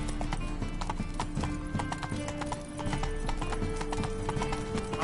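Roach the horse's hooves clip-clopping in the video game Witcher 3, a continuous rhythmic trot over a dense, busy game soundscape with music and ambient layers, steady throughout.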